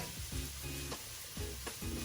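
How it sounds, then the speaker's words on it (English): Diced chilies sweat with shallots and tomatoes in a pan, giving a continuous soft sizzle, with occasional stirring scrapes recurring every half second or so, quiet and close with no talk. "We're going to sweat those down with our shallots and our tomatoes"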